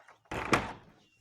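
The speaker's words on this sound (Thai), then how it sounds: "นี่ประตู" A door closes in a single solid thunk with a short scrape, fairly close and alone after near silence.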